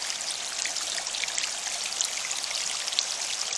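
A small waterfall on Fishing Creek in York County with little water gives a steady, close splashing and trickling, alone and continuous, with no voices.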